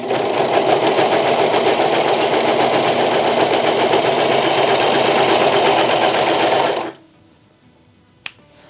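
A serger overlocks the seam of a satin bonnet, whirring loud and steady for about seven seconds before stopping abruptly, followed by near silence and a single sharp click.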